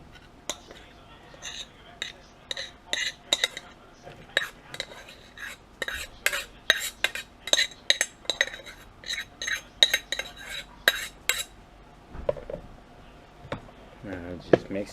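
A garlic, onion and rice filling for Croatian stuffed peppers being mixed by hand in a bowl, giving soft intermittent clicks and squelchy taps in an irregular rhythm, close up and fairly quiet.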